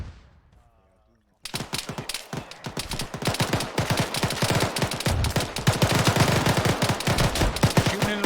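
Gunfire in ArmA 3: after a brief quiet start, a loud sustained burst of rapid automatic shots cracks on without pause, layered with other weapons and a voice talking over it.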